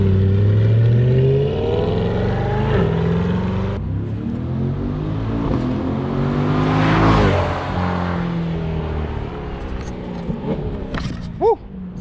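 A 2020 Corvette C8 mid-engine car roars past, its engine note rising to a loud peak as it draws near, then falling and fading as it drives away.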